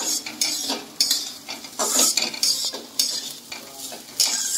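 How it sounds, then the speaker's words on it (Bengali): Bottle gourd peel fries in a pan while a utensil stirs it, giving repeated scraping strokes over a soft sizzle, close and fairly loud, with no talking. "এবার এটা অনেকক্ষণ ধরে কষাতে থাকবো, বেশ কিছু মানে ভাজতে থাকবে।"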